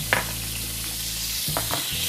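Olive oil and a teaspoon of melted margarine sizzle in a pan, a steady close hiss broken by a few brief clinks or stirring touches.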